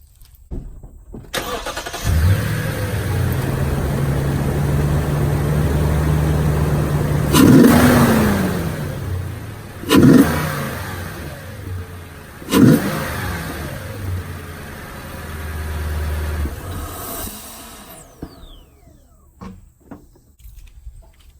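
A Toyota Tundra pickup engine with an S&B dry-filter intake and its lid off starts, idles with a deep rumble, then roars through three sharp revs before settling and shutting off.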